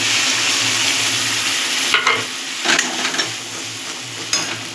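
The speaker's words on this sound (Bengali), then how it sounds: "মশলাটা আমি একটু কষিয়ে না নিলে হয়তো কাঁচা মশলা গন্ধ ছাড়তে পারে, তাই আমি একটু মশলাটা কষিয়ে নিচ্ছি" Ginger, garlic, onion and chilli paste sizzles in a pan with chopped tomato, a constant close frying hiss broken by a few sharp spatula scrapes and stirring knocks, with no talk.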